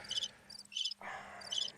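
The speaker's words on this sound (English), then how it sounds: "cue the crickets" Crickets chirp in short, rhythmic bursts, a few distinct pulses close together and fairly quiet, with no voices over them.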